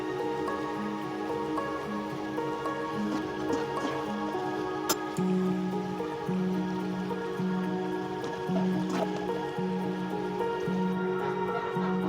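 Namak pare dough fries in hot oil over a medium flame, giving a soft, constant sizzle scattered with small crackles and pops, heard close and fairly quiet.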